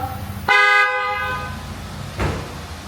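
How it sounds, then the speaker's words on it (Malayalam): A single loud blast from a replaced car horn in a garage sounds for about a second, followed by a fainter short beep amid light background noise. "അതുപോലെ ഹോണ് നമ്മളൊന്ന് മാറ്റിയിട്ടുണ്ട് കേട്ടോ"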